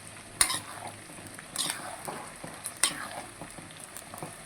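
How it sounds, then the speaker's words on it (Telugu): Ginger paste frying in a pan for gonguura chicken pickle, a steady close sizzle broken by three sharp scraping stirs of a spoon against the pan, with no voices. "అల్లం పేస్ట్ పచ్చివాసన పోయేదాకా వేగాలన్నమాట"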